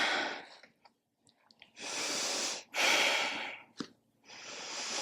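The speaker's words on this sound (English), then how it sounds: "Deep inhales. Deep exhales here." Deep breathing during an advanced Pilates reformer workout: several long, close, airy inhales and exhales separated by brief pauses, with a short snort-like breath in between.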